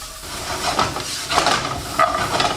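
Peppers lightly sautéing in a pan with soy sauce for chicken chow mein: a steady close sizzle and hiss with scraping stirs of a utensil against the metal, with no talking.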